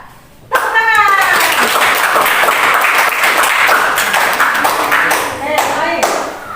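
A class of children claps together in a quick rhythmic clapping game, loud and close, with young voices calling out and chanting over the clapping.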